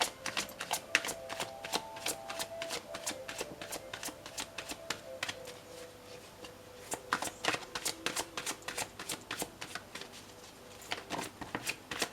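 Playing cards are shuffled close to the mic in quick riffling bursts, a crisp rapid flutter of card edges repeating in bursts with short pauses between, and no voices heard.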